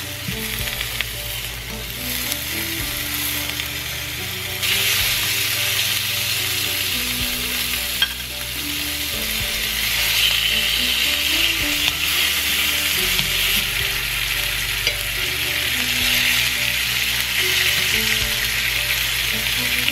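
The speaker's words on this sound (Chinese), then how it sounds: "另外一边我也放了一些培根下去，就是用那个油来热锅" Bacon sizzles and spits steadily in a hot pan, a dense continuous frying hiss that swells slightly louder partway through, with occasional stirring and no talking.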